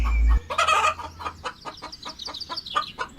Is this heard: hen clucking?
yes